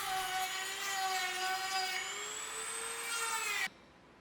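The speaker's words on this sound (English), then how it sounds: "I'm using a sanding bit on my Dremel tool to slowly widen the hole to size." A Dremel rotary tool fitted with a sanding bit widens the hole of a forged Damascus steel ring, giving a loud steady high-pitched whine with a slight pitch shift midway, then cutting off abruptly just before the end.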